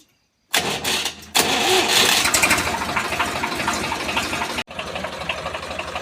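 A tractor engine cranks briefly, pauses, then catches and roars into a loud, steady idle, close by; it cuts out for an instant near the end before running on.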